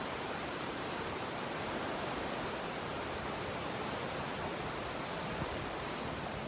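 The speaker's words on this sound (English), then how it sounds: "I'm not even sure what this river is" A flooded river on the Appalachian Trail rushes past, swollen over a submerged beach campsite, giving a steady, dense roar of water that stays loud and unbroken throughout, with no voices.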